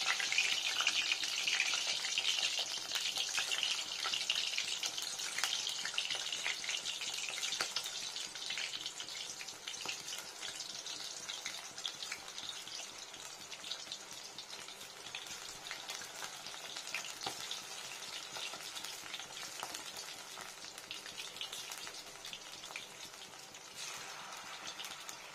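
Malabar spinach pakoras in batter frying in hot oil, a steady bubbling sizzle that starts louder and eases slightly, continuous and close with no voices.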